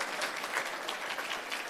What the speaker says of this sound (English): round of applause for the table hosts for volunteering their time to be here